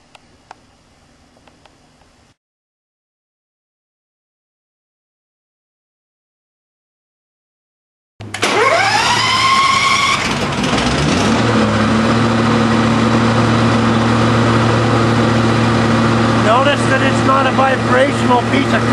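A Steam Action Supply 9100lx truckmount engine starts up after a brief quiet pause and then runs loudly and steadily with a smooth, even hum.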